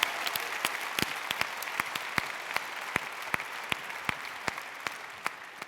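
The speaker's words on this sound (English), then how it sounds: "So please give a big round of applause for everyone who's here today." Audience applause at the Slush 2015 startup conference opening show, a steady wash of clapping from a large crowd with a few sharper claps standing out near the front, no voices over it.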